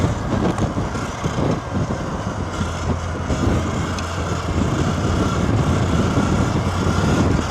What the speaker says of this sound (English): Oh my goodness, it's so windy again.